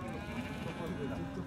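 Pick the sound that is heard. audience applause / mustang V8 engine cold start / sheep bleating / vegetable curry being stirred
sheep bleating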